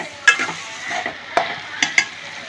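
Mashed roasted brinjal and potato are sautéed in a pan, a steady sizzle under repeated scraping stirs and a few sharp clinks of the spoon against the metal, close and clear with no talking.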